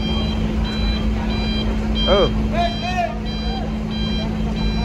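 A truck loaded with water gallons reverses at Merak port, its reversing alarm beeping in a steady repeated rhythm over a low engine rumble and harbour noise, with other tones and voices in the background.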